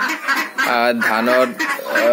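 Ducklings calling in short, bright peeping bursts while being fed grain, a few close calls overlapping across the brief stretch.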